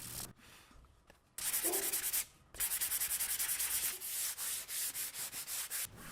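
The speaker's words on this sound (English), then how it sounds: "I sanded the filler area smooth with the 400 grit sandpaper" Hand sanding dried wood filler smooth with 400 grit sandpaper on a mid-century coffee table during restoration: steady rhythmic rasping strokes, close and fairly loud, after a quieter start and a brief pause.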